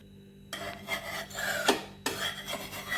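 A spatula scrapes under a spongy dosa on a hot pan and flips it, producing raspy scraping strokes, a sharp scrape midway, then a fresh rasp after a brief pause, close and fairly quiet with no talking.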